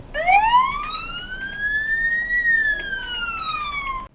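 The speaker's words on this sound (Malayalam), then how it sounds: "ഈ സൈറനാണ് നിങ്ങൾ പോകുന്ന വഴിക്ക് കേൾക്കുന്നത് എന്നുണ്ടെങ്കിൽ ആംബുലൻസ് വരുന്നുണ്ട്" An ambulance siren, the first of four common siren types, sounds as a single loud, near electronic wail that sweeps up in pitch, peaks midway, then slowly glides back down, with no talk over it.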